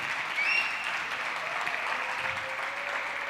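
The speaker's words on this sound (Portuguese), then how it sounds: "Vamos aplaudir o Senhor?" Church congregation applauding together after a call to praise, a steady, dense wash of clapping that holds evenly throughout with no voices standing out.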